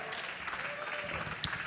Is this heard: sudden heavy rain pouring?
no